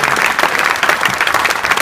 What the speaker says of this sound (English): A massive round of applause for that.